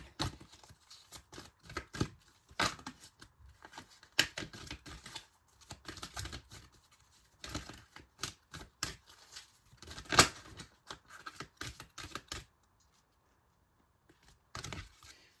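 Crisp riffling and flicking of tarot cards in quick bursts, near and fairly quiet, with short pauses between the rounds of shuffling.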